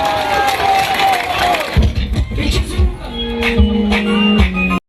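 Large concert crowd cheering and applauding, a loud dense roar of voices and clapping, with someone speaking over it through amplification partway through.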